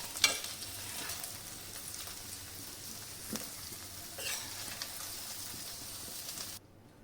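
Okra pieces frying in oil in a pan: a continuous close sizzle with a few sharp clicks from stirring, and the sound cuts off abruptly at the end.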